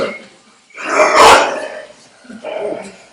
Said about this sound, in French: c'est Milou ton chien, pas Maurice